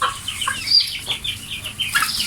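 Chickens fed moringa leaves hanging in their coop give short, soft clucks and calls in a loose, uneven series, fairly close, with no voices.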